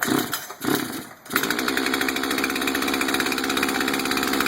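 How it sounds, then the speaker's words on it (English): A chainsaw runs at a high idle with its chain spinning just after starting, holding a steady, loud, buzzing drone. A few brief handling sounds come before the engine settles. "Here's idling high. Chain is spinning."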